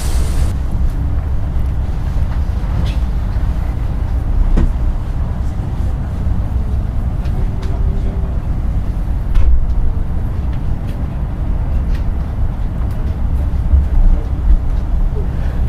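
Low, steady rumble of a passenger train pulling out of Alas Tua station on the way to Semarang Tawang, heard from inside the carriage with faint occasional clanks.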